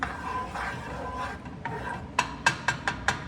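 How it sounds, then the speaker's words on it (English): Onions being stirred in a pan: a soft scraping stir under a faint sizzle, ending in a quick series of five sharp utensil clacks against the pan. "You'll want to stir occasionally, making sure that nothing burns."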